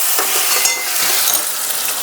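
Tomato paste fries in a pan for crispy chili corn, giving a close, continuous hissing sizzle with light stirring scrapes and no voices.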